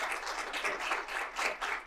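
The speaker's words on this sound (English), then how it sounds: "let's give a round of applause to the Honorable Victoria Roberts" Audience applause after a speaker at a Women's History Month forum honoring federal judge Victoria Roberts, a steady wash of many hands clapping at moderate level, fairly distant, with no talk over it.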